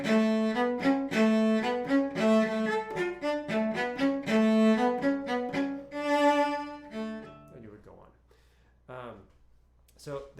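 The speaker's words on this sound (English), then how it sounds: "you can add vibrato on your long quarter notes that are not open strings" Cello plays a flowing melody of bowed notes, the longer quarter notes on stopped strings shaded with vibrato, clear and close; the phrase ends and a few quieter notes follow near the end.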